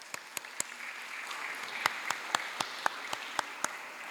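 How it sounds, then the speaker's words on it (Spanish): An audience at an academic experience-exchange event in Guatemala claps in a sparse, fairly steady rhythm of distinct hand claps over soft crowd noise, several seconds long and moderately distant. "Un aplauso, por favor."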